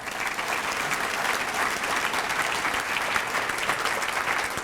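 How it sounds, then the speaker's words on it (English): A school district State of the District audience in Arlington applauds the Dallas Cowboys, a broad, sustained wash of many hands clapping at steady volume with no pauses. "You can give them a round of applause."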